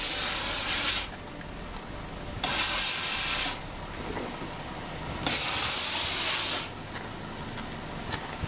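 A 160 PSI commercial vapor steam cleaner used for car detailing in steam mode, releasing three loud, bright hissing bursts of roughly one to one and a half seconds each, separated by quieter pauses.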